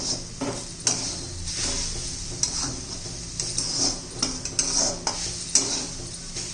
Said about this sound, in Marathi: मंद गॅसवर एक 4-5 मिनिटं आपण परतून घेऊ.